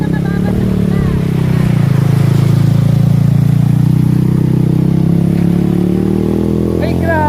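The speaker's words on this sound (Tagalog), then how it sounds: "Nagpirit na nga na si kuya magmotor, oh." A motorcycle ridden through flood water gives a steady, loud engine drone close by, with a low rumbling wash underneath throughout.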